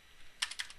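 Computer keyboard typing while entering commands in a CCNA inter-VLAN routing lab, a short burst of four or five crisp, close keystrokes with no talking.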